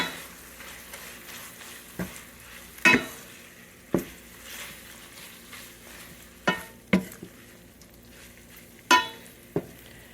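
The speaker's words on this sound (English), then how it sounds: "throw in just half of these noodles here. And give it a little toss" Noodles tossed in a frying pan over just-turned-off heat, with a soft sizzle underneath and several sharp clinks and scrapes of utensil against pan spaced irregularly, close by, with no talk.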